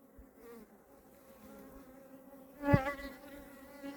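Honey bees buzz softly around hives during honey extraction, a faint hovering drone with one louder close pass of a bee near the mic partway through.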